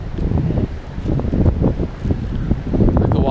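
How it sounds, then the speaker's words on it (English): Steady wind buffets the microphone outdoors in the Smoky Mountains, a continuous low rumbling gust with fluctuating intensity throughout. "It's always breezy down here."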